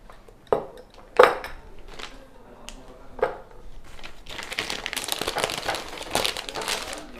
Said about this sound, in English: Now I'm going to come place it into my piping bag.